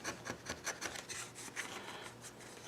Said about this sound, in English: I'm going to sand this with some hand sandpaper with my thumb